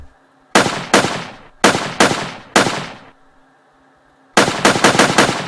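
Player weapon fire in a Unity3D game: sharp, loud synthetic gunshots, a few single and double shots spaced apart, then a rapid burst of five near the end, over a faint background hum.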